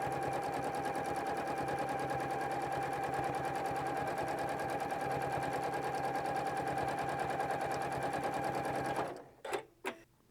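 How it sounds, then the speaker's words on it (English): A Janome 9410 sewing machine does free motion quilting, its needle hammering in a fast, even rhythm for about nine seconds before stopping, followed by a few faint clicks. "That's free motion quilting with this kind of foot here."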